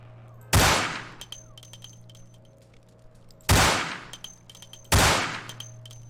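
Three loud, sharp gunshots fired at a hook in the video game Vampire the Masquerade Bloodlines, spaced a few seconds apart, each with a ringing metallic tail over a low steady hum, with no talking.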